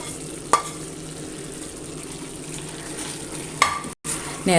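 Fried onions are stirred into cooking chicken chukka in a pan, giving a steady close sizzle with scraping stir strokes and two sharp clanks of the spoon against the pan.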